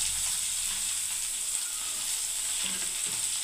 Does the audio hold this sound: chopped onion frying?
yes